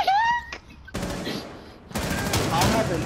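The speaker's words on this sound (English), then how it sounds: "I haven't played this game in so long, the gunshot scared me." Gunfire in the video game Rainbow Six Siege comes in sharp, loud bursts, one at the start and longer rattling volleys after, with a player's voice heard between the shots.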